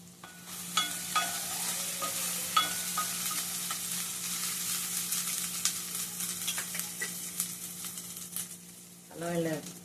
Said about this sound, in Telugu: అల్లం వెల్లిపాయ పేస్ట్ ఒక 5 నిమిషాలు ఆయిల్లో మగ్గనివ్వాలి